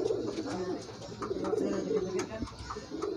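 Pigeons coo in soft, repeated low throaty phrases, close by and continuous, with a little chirping mixed in.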